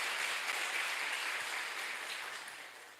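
A crowd applauds steadily, a broad wash of clapping that holds and then gradually fades toward the end.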